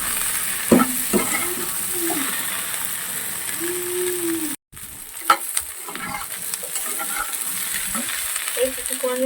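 Okra, potatoes and small Sundarbans crabs stir-frying in a pan, with a continuous sizzle, intermittent spatula scrapes and clatter, and a brief drop-out midway.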